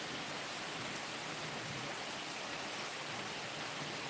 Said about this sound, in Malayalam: മഴയുണ്ട്, ഞാനിവിടെ ബ്ലോക്കായി പോയി.